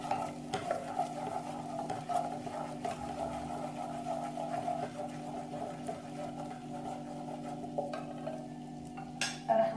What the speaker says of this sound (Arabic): خلطوا مليح التوابل هذه